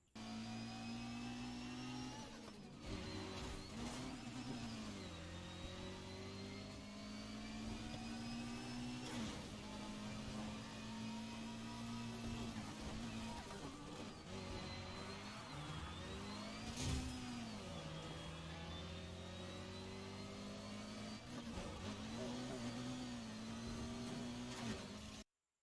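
A car in a Need for Speed racing game drives steadily, its mid-pitched engine humming and shifting pitch as it accelerates and eases off, with occasional tire and impact noises over continuous game sound.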